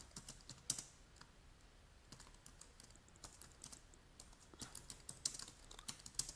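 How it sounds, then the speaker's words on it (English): Computer keyboard typing an error message into a Bash shell script: irregular bursts of crisp key clicks with short pauses, close but quiet, with no talk. "Now I type in my error message"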